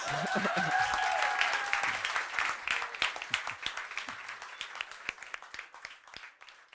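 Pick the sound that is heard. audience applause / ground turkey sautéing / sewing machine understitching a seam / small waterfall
audience applause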